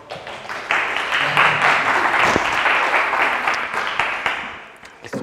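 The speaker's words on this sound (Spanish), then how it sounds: "Un fuerte aplauso, por favor." A lecture audience breaks into loud, dense applause for a speaker on marine geophysics, a sustained wash of many hands clapping that swells early, holds steady, then tapers off near the end.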